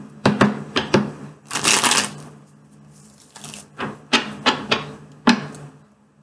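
Tarot cards being shuffled by hand, a series of sharp slaps and riffling bursts in an irregular rhythm, close and crisp with brief pauses between.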